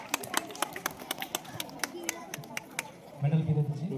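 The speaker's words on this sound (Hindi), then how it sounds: "अपना परफॉर्मेंस देने के लिए जोरदार तालियां बजाइए" Sharp, scattered hand claps from an audience at a school Children's Day celebration crack out near and irregular, thinning toward the end as a voice begins to speak.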